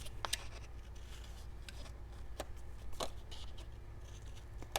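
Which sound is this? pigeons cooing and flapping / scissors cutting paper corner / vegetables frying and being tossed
scissors cutting paper corner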